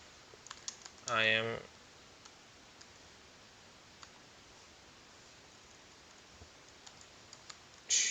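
Light, rapid clicks of a computer keyboard as a comment is typed, quiet and close, with a short spoken phrase breaking in near the start.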